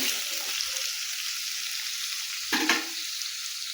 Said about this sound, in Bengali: এই যে মশলাটা কষে নিচ্ছি